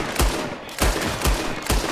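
Gunfire in the video game Red Dead Redemption 2, a handful of loud, sharp shots spaced at regular intervals about half a second apart, each cracking out with a short, booming tail.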